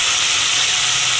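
Tomatoes tempered in hot oil for pulav give a loud, steady, close hiss of sizzling that stays constant from start to finish with no talk.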